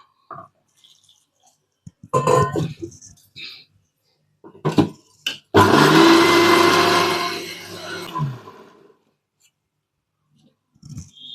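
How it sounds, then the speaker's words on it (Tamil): A mixer grinder grinds masala with water for a fish curry with okra. One loud whirring burst of a few seconds comes between handling knocks and clatter, with a person talking around it. "நம்ம தண்ணி விட்டு அரைச்சிக்கணுங்க."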